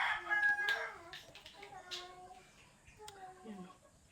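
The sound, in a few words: chickens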